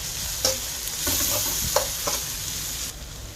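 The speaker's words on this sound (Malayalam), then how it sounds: "അപ്പോൾ നമുക്ക് ഇത് നന്നായി മിക്സ് ചെയ്ത് കൊടുക്കാം." Vegetable fried rice with pepper being stirred in a pan: a steady sizzle runs throughout while a spoon or spatula scrapes and knocks against the pan in a few distinct strokes, with no talking.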